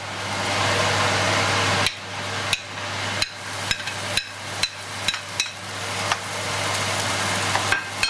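Onions, tomatoes and galanga root are stirred in a sizzling pan for a spicy salted-fish bacalao dish, with a steady frying hiss broken by a series of sharp scraping knocks of the utensil against the pan.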